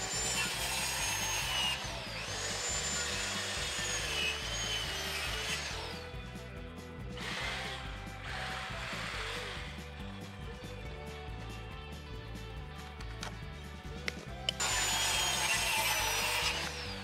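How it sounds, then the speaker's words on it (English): A jigsaw cutting a wooden deck board for a pool deck, a buzzing rasp that runs in several long bursts with brief pauses between them, fairly close. "then I finish it off with a jigsaw"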